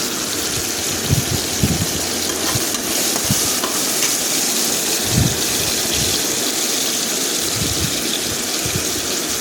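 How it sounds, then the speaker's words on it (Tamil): Ingredients with green chillies and salt sautéing in a pan for a lentil rice dish, a steady loud sizzle with repeated scraping stir strokes throughout, no talking. "உப்பு போட்டு நல்லா வதக்கிடுங்க இது நல்லா வதங்கணும்"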